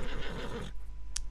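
A horse in Red Dead Redemption 2 gives a short, loud whinny as it rears, followed by a quieter pause with a faint hoof tap.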